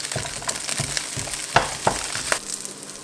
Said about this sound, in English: we're going to start off frying off our onions until they're a little bit soft